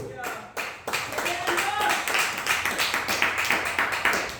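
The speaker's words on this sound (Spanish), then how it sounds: "den un fuerte aplauso a Jesucristo" A church congregation applauds loudly for Jesus, steady rhythmic clapping from many hands that builds after a brief start and continues evenly, with voices mixed in.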